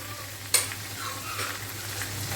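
Potatoes, tomatoes and spices frying together in a pan give a soft, steady sizzle, with a brief clink or scrape of stirring early on, fairly quiet and close with no talk.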